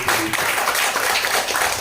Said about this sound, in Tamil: அவருக்கு நம்ம அனைவரும் ஒரு முறை கைத்தட்டி